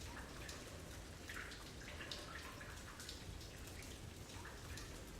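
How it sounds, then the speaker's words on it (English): Steady water noise in the pitch-black video game The Tower, a constant splashing patter like rain or dripping, faint and continuous with no talk. "that water noise is now directly in front of me"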